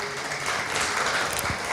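An audience applauds at a Montego Bay Jerk Fest launch event, steady moderate clapping from a crowd heard at medium distance.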